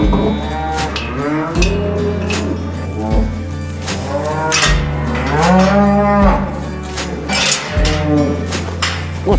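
Cattle at summer grazing, cows and calves, mooing loudly and close in a string of long overlapping calls, one after another with hardly a pause, several animals answering each other.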